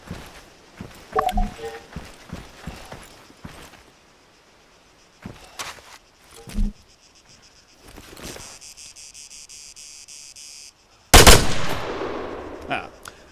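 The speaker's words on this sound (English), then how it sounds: "When you're ready, put some rounds down range." Rifle gunfire at targets in the Arma 3 military game on a range, a few scattered sharp shots and bursts over constant insect chirping, ending with one loud close burst and its ringing echo.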